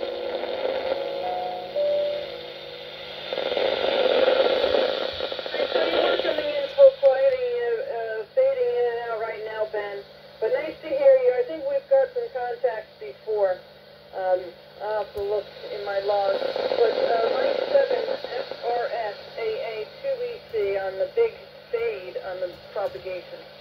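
Xiegu G90 transceiver on 20 watts receiving a noisy, fluctuating 10m band, hiss and tones with a distant voice coming through the radio.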